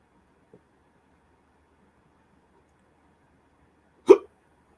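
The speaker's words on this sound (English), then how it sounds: "Oh, got the hiccups." Someone gives a single sharp hiccup, short and fairly close, in an otherwise near-silent room, with a faint tiny click just before it.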